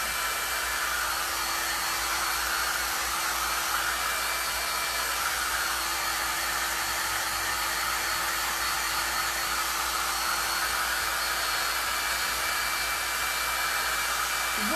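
A hair dryer blows steadily and loudly for the whole stretch, drying paint on a remote control holder being finished with a washed patina, an unbroken close-up whoosh with no talk over it.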